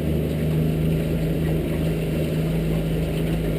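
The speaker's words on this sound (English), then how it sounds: "motor still running smooth" A 2003 Alumaweld 15' Stryker boat motor runs loud and steady around 2,800–3,000 RPM, not yet on plane, a constant low engine drone with a rumbling hum and rushing water noise, no voices.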